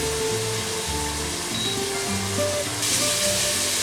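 Onion sizzling gently in a pot over low heat with a bay leaf, a steady soft frying hiss with faint crackle, close and continuous with no talking.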